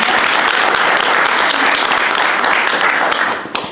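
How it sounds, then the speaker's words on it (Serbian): An audience at a book promotion in Vienna applauds to welcome the novelist Olivera Budimir: dense, loud clapping fills the room without a break and eases off slightly at the very end. "Najpre pozdravimo našu gošću, gospođu Oliveru Budimir, sa jednim aplauzom u znak dobrodošlice."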